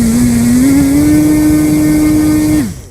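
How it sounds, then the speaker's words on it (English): A small 3V electric motor spins at very high RPM, making a loud, steady, high whine that climbs slightly and then cuts off and winds down near the end. "It's literally gone from a little toy motor to an absolute monster motor."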